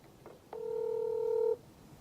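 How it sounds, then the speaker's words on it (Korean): A telephone call being placed during a Korean election-special broadcast: one short tone, then a single steady dialing tone held for about a second, clear and alone against faint background hiss. "전화 연결 한번 해보도록 하겠습니다"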